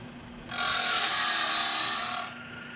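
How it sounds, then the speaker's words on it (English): A chainsaw chain grinder bites into a broken saw chain tooth, giving one bright, harsh grinding whine that starts abruptly, holds for about two seconds close by, then fades off. "this next tooth's going to make a lot of funny noise because the tooth is broken"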